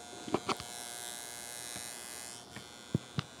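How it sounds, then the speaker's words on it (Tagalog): A steady electrical buzz with a high whine hums from a cheap DC circuit breaker setup feeding a 70-watt electric fan, with a few faint clicks over the drone. "Meron ng ugong."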